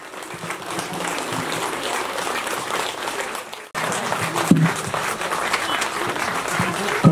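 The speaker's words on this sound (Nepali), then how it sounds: "हजुरहरूले तालीलाई एकछिन नरोकिदिनु होला" Steady audience applause at a ceremony honouring guests at a building inauguration and annual celebration in Hatiya Chisapani, a dense wash of clapping throughout with a brief dip midway, and a faint voice over it.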